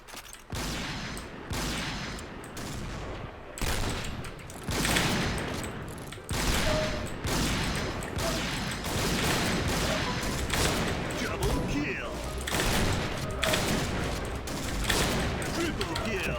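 Sniper rifle fire in the shooter game Point Blank, repeated sharp shots in bursts with mechanical handling sounds between, loud and close, while a player talks over the action.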